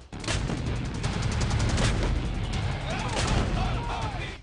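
Dense, heavy blasts and rumbling booms from M777 howitzer artillery firing in trials at Jaisalmer, Rajasthan, run together continuously and loud for the whole stretch, with faint voices in the background.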